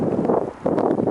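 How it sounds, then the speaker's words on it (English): Strong wind gusts outdoors near the Angel of the North, buffeting the microphone with a loud low roar that dips briefly before surging again. "the wind's getting strong"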